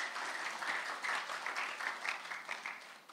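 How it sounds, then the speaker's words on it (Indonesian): A church congregation applauds, dense steady clapping throughout at moderate volume with no talking. "Tepuk tangan untuk Tuhan Yesus."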